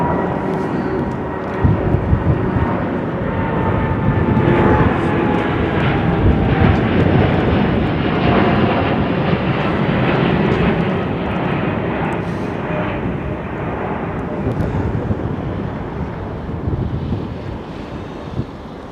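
Airbus A380 jet engines roar at London Heathrow Airport, a loud steady rumble with a faint whine, heavily buffeted by wind noise on the microphone, with no talk.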